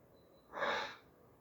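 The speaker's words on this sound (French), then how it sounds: "c'est quand je reniflais. Parce que mon nez est un peu bouché" A single close, soft sniff through a partly blocked nose, a brief breathy rush of air in an otherwise quiet room at night.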